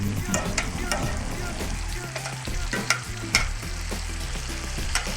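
Shrimp sizzle on a grill with a constant close crackle, while tongs or a spatula scrape and tap as the pieces are shifted around. There is no speech.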